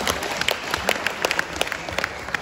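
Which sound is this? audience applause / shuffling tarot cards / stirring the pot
audience applause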